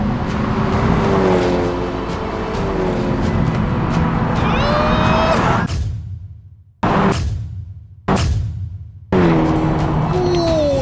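A Honda Civic Type R and a Toyota GR Corolla roar past close by in a drag race, engines revving and rising in pitch before the sound whooshes away, followed by a few short bursts of passing noise.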